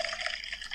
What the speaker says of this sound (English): I'm pouring out the juice.